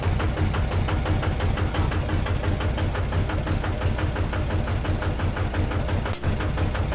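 A Thai i-taen farm vehicle engine idles steadily and loudly close by, a continuous rhythmic chugging with a fast even knock and no revving, running alone without talk.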